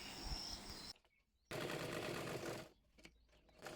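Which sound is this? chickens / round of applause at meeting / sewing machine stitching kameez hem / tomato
sewing machine stitching kameez hem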